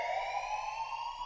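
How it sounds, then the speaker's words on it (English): A loud, steady electronic alarm blares in a video game, a sustained multi-tone ringing that holds at constant pitch and volume throughout with no voices. "A loud alarm abruptly brings me back to reality from my dream."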